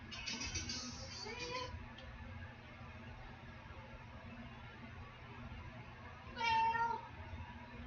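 A house cat meows a few times close by, with one louder cry near the end over a steady low hum of room noise.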